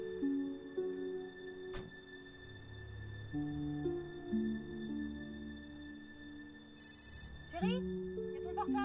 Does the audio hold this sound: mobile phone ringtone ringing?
yes